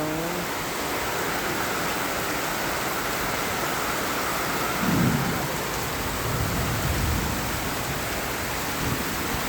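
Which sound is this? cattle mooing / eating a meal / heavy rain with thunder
heavy rain with thunder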